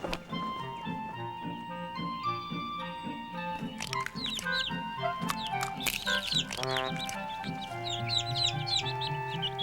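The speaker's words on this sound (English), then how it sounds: "There were birds" Chickens cluck over a dense layer of chirping birds, with several calls overlapping and continuing without a break, sounding close and busy like a farmyard.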